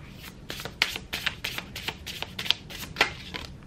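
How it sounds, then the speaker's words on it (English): Tarot cards are shuffled by hand in a quick run of crisp riffles and slaps, close and clear, with sharp snapping peaks at irregular intervals and no talk. "Y'all saw me shuffle them cards and it comes out again."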